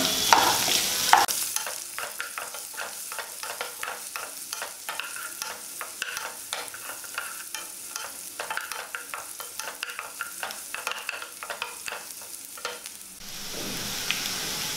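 Onions and radish sautéing in a pan for radish chutney, stirred with steady, evenly spaced scraping strokes over a soft continuous sizzle, close and alone without talk.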